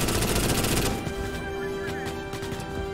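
Sustained automatic gunfire in Starship Troopers: Extermination, a dense rapid stream for about a second, then fainter scattered shots under a steady hum of game sound.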